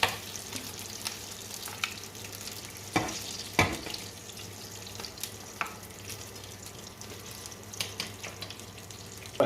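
Meatballs brown in a frying pan with a quiet, even crackle, broken by several sharp clacks and knocks of a utensil against the pan.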